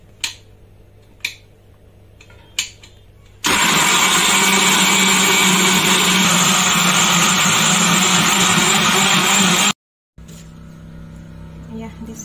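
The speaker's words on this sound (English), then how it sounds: "We finished to blend it." A kitchen blender whirs steadily and loudly while blending soursop fruit juice with a little water, running for about six seconds before cutting off abruptly, preceded by a few sharp clicks.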